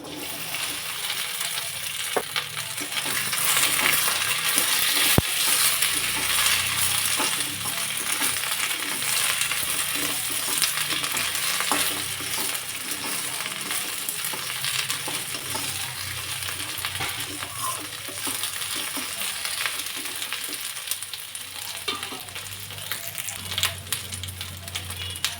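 Chopped okra sizzles in hot oil in a kadhai, a constant close crackle broken by occasional stirring and scraping, steady and fairly loud throughout with faint speech at moments.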